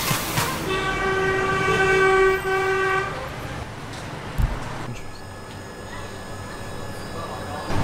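A train passes through a narrow residential alleyway lined with houses in northern Vietnam. It sounds a loud, sustained horn up close, then rolls on with heavy rumbling and rattling clatter.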